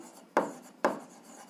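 Pen on paper in a school algebra lesson: two short, sharp scratching strokes about half a second apart, close and distinct over quiet room tone.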